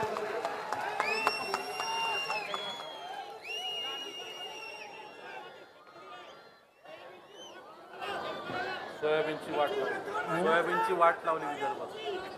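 A large crowd at a political rally in Bhosari applauds and cheers amid loud shouting and chatter, the clapping and voices swelling into a sustained roar toward the end.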